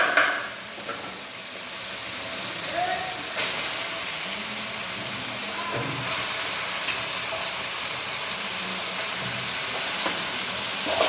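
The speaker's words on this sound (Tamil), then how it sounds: "கறி நல்லா வதங்கிட்டோம்." Meat sautés in a pan with onion, tomato and ginger-garlic paste, a continuous close sizzle with occasional stirring scrapes throughout.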